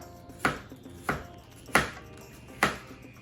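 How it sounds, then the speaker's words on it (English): Four sharp knife chops on a cutting board at a steady, roughly even pace while slicing meat for carne guisada, a Mexican meat stew; close and distinct over quiet room tone, with no talking. "all we're going to do is just slice them down"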